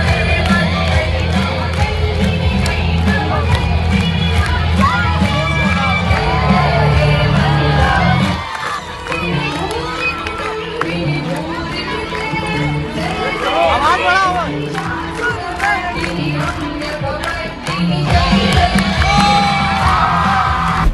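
A large crowd of women at a Priyanka Gandhi rally cheers and whoops loudly, with yells and shouts rising over a dense babble of voices that keeps going for the whole stretch.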